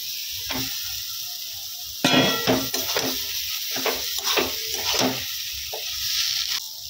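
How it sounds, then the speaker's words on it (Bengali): Boiled lentils are poured into a pan of fried egg and spice masala, setting off a louder burst of sizzling and bubbling over the steady frying hiss, with stirring scrapes that continue close by. "এবারে ডালটা সিদ্ধ করে রেখেছিলাম দিয়ে দিব।"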